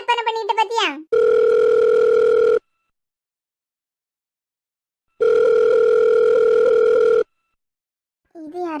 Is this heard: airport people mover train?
no